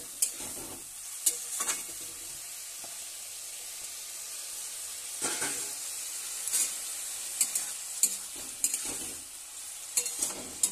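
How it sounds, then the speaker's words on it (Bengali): Yardlong beans and potatoes are sautéed with spices and a splash of water, producing a soft steady sizzle broken by sharp scraping strokes of a spatula against the pan at irregular intervals. "একটু জল দিয়ে ভালো করে কষে নিচ্ছি"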